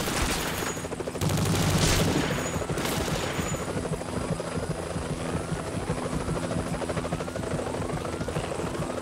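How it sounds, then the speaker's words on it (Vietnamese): A helicopter's rotor thumps steadily through a firefight in the video game Vietcong 2, with loud fusillades of rifle and machine-gun fire crackling in bursts over it, then the rotor drone continuing amid scattered shots. "Phải hạ cho được máy bay lên thẳng."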